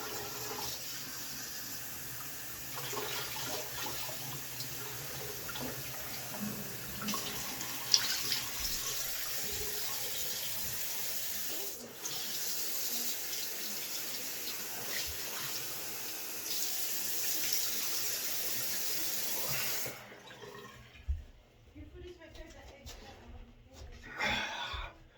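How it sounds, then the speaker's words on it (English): Tap water running into a sink while rinsing off after a shave, a steady close splashing hiss that stops abruptly near the end, followed by a few faint clatters. "let's go ahead and rinse off"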